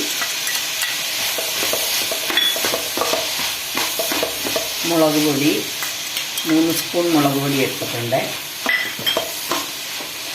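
Steady sizzling and frying of onions and turmeric powder in a pan on a wood-fired stove, with scraping stir strokes, while a person talks over the cooking.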